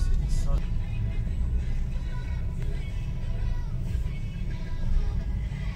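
Slow, dense road traffic crawling through Palembang, a steady close drone of idling and creeping engines with faint voices now and then.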